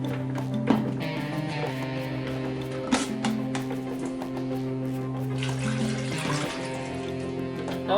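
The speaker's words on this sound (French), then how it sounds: "Donc je chauffe de l'eau dans mon chauffe-eau." Half a litre of water heats in an electric kettle for homemade rose water, giving a steady, close rumbling hiss with a humming tone and occasional faint clicks, and no speech.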